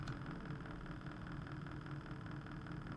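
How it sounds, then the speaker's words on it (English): A DF83V coffee grinder, switched on from its top on-off switch, runs at low speed with a steady, quiet motor hum and light vibration, continuous throughout with no talking. "So right now I'm gonna turn the grinder on."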